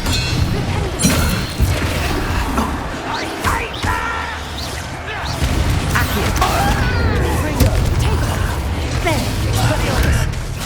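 The Expelliarmus disarming spell is cast during combat in Hogwarts Legacy on PS5, a loud burst of magical whooshes and booming impacts within dense, continuous battle effects, with voices calling out over the action.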